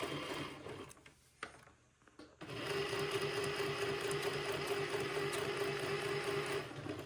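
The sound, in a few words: sewing machine stitching a French seam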